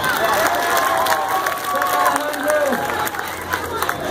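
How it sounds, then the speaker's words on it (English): Street-show crowd at Pier 39 cheering and clapping in a dense, continuous wash of applause and shouts, with voices and children calling out throughout. "Give her a round of applause."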